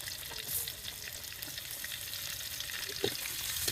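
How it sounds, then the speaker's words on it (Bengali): Onions and green chilies frying in oil in a pan for a bitter gourd and fish curry, a steady soft sizzle with faint stirring clicks, close and moderately quiet, with no talking. "প্রথমে তেল দিয়ে নেব, পেঁয়াজ আর কাঁচামরিচ গুলো দিয়ে ভালোভাবে ভেজে নেব"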